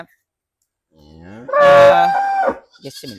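A cow at a cattle farm lets out one loud, close, drawn-out moo of about a second, followed by a shorter lowing call after a brief pause, with no talk.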